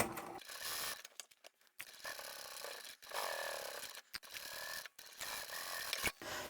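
Sewing machine stitching stabilised fabric and vinyl for a handbag, in short motorised bursts of rapid mechanical whirring separated by brief pauses, close and fairly quiet.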